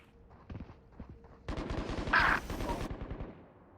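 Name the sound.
Judge shotgun fire in VALORANT video game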